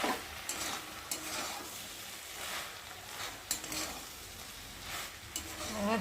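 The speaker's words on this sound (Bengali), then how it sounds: "আর এখন আমি ভালো করে নেড়ে দেবো" Taro flowers (kochu ful) fry in a pan while being stirred, giving a steady close sizzle with scraping stir strokes and brief spoon-on-metal clinks spread across the few seconds.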